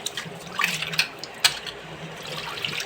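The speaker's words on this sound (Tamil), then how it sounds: "கையை போட்டு நல்லா தேய்ச்சி கழுவிட்டு இந்த மாதிரி ரெண்டு முறை நிறைய தண்ணி பிடிச்சிக்கோங்க" Murrel fish being washed by hand in a basin of water, with soft sloshing and a few brief splashes and rubbing noises, fairly close and quiet, with no talk.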